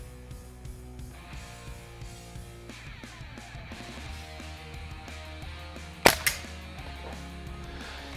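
A single sharp report from a CO2-powered Umarex air pistol cracks out once near the end, loud and close, followed by a quick smaller echo-like click over a steady background hum.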